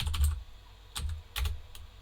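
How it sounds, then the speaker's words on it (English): Keys on a computer keyboard are struck in a few quick, close clusters while a web address is typed into a browser's URL bar, with short gaps between the bursts. "I can just type that into the URL bar"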